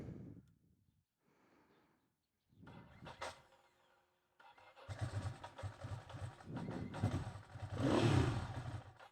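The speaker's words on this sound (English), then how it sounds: "Let's hear this bike." A Ducati Monster S2R 1000 motorcycle engine cranks in a few short bursts, then catches and settles into a loud, close, steady running idle with some revving.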